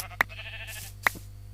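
Two short bleats of sheep in a Minecraft-style game, spaced about a second apart, sounding over a steady low background hum with no speech.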